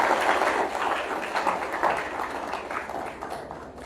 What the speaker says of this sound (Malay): Tepuk tangan kepada Fatih.